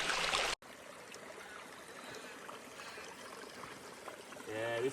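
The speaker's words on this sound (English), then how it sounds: "this little waterfall right here" Steady trickling and splashing of a small waterfall on Mt Kosciusko, Australia, constant and moderately faint, with a brief cut near the start.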